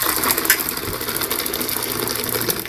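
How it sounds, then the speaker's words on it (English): Excel 1.6 GPM gas water heater igniter sparking, a fast, even run of sharp electric ticks repeating without pause, close and fairly loud over a faint mechanical hum. "you're gonna hear the ticky ticky ticky ticky ticky ticky tick, which is the spark"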